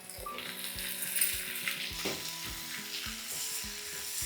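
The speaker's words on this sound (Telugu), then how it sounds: "ఇప్పుడు ఇందులో మనం కట్ చేసుకున్న క్యాప్సికమ్ ముక్కలు వేసుకోవాలి" Capsicum pieces frying in hot oil with ginger and garlic give a steady, close sizzle, with intermittent scrapes and clinks from stirring in the pan.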